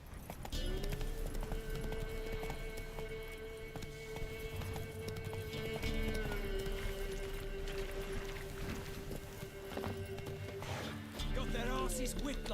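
Geralt's horse Roach gallops in Witcher 3 with steady rapid hoof clip-clops under a droning game soundtrack, fairly loud and continuous.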